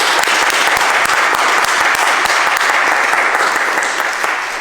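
Church sanctuary audience at a poetry contest reading clapping loudly and steadily, a full, sustained round of applause that tapers slightly at the end.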